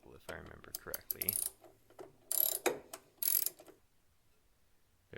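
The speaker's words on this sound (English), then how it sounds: "So here I am now taking out one of the other bolts, and then another one." Bolts are removed in the engine compartment of a 1977 GMC Vandura, giving close, quiet ratcheting clicks and metallic scrapes in short bursts, then brief silence.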